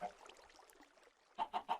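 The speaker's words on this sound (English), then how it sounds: "just heard my chickens give birth" Chickens in a video game give a quiet stretch of faint clucking, then three sharp, evenly spaced clucks close together at the end.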